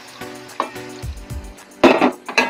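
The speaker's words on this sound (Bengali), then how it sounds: "আমি এবার জল দিয়ে দিচ্ছি" Water poured into a pan of frying potatoes: clinks and low thumps, then two loud, hissing sizzle bursts up close.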